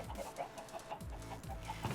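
Minecraft chickens cluck in a steady run of soft, repeated clucks, fairly faint and close together, with no talking over them.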